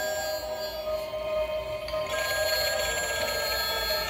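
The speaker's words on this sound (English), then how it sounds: "The phone." A telephone rings with a bright, high electronic warble that continues steadily and loudly throughout, heard up close against a busy indoor background with no talk.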